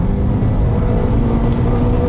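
A Renault Clio 3 RS with the 200 hp engine revs hard above 5000 rpm, a loud, dense, continuous engine roar heard from close by with no pause.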